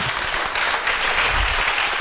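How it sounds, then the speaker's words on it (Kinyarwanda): A church congregation bursts into sustained applause during a worship service, a dense, steady wash of many hands clapping together throughout. "Applaudissons pour Jésus."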